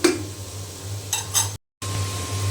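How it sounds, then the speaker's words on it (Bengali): Vegetables stirred and fried in a pan for a fish curry meal, with a steady soft sizzle, a few scraping stir strokes near the middle and a brief dropout before the frying hiss resumes, no talking. "আবারও আমি খুব ভালো করে নেড়ে চেড়ে ভাজিটা সুন্দর মতো করে নেব।"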